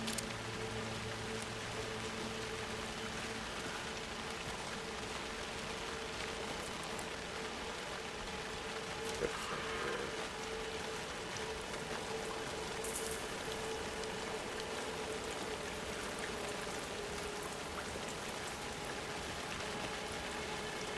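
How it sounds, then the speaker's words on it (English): Steady rain in the Alan Wake 2 video game, a soft continuous patter on surfaces, faint and even throughout with no voices. "Love how the rain comes in."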